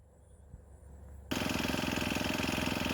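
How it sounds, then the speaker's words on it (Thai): A rice harvesting machine's engine cranks and catches partway through, jumping from a quiet background to a loud, steady mechanical roar that holds close by to the end. "เดี๋ยวผมจะ สตาร์ทเครื่องนะครับ"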